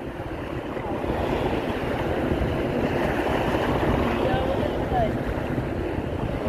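Strong wind gusts buffet a fishing boat out at sea, a steady broadband roar of wind against the microphone mixed with waves, constant and loud throughout.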